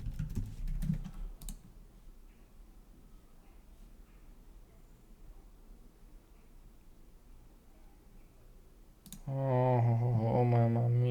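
Rapid clicking of computer keyboard keys while a password is entered, faint and steady, with a burst of louder sound early on and a person talking loudly near the end.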